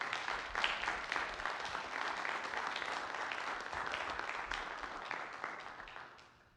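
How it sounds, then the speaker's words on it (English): Listeners at an addiction workshop give a group a round of applause, with faint, steady clapping that fades out at the end. "Let's give this group a round of applause."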